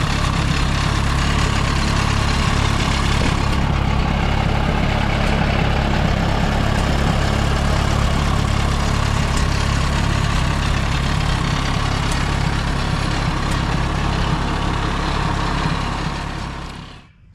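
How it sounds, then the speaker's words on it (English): A rare high-geared little tractor engine idles loudly and steadily for the whole stretch, a continuous low throbbing drone with no talk, fading out at the very end. "this one is a high-geared little tractor. It will run along pretty good."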